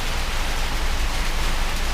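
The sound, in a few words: heavy rain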